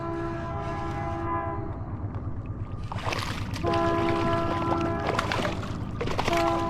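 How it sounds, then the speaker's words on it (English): A passing train rumbles steadily near a Minnesota lake while its horn sounds in long, loud blasts, with a brief break between them and rail clatter underneath. "Got the train coming in the background."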